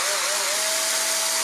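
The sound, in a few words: drilling a hole for a 3 mm axle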